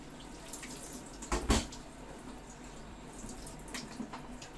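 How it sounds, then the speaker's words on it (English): Fresh sprouts being rinsed in a colander under running kitchen water, a quiet steady trickle with one brief louder splash near the middle and a few faint drips toward the end. "just pour them in a colander, run some fresh water over them, just rinse them."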